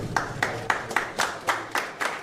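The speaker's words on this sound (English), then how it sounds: "look at all those rich people in that room clapping" People clap in a room, sounding as about eight sharp, evenly spaced claps in a slow, steady beat, close and moderately loud.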